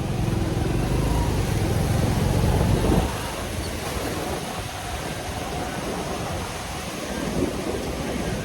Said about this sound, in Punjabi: ਸ਼ਾਇਦ ਤੁਹਾਨੂੰ ਆਵਾਜ਼ ਵੀ ਸੁਣਦੀ ਹੋਵੇ ਕਿੰਨਾ ਜ਼ਿਆਦਾ ਤੇਜ਼ ਆ ਪਾਣੀ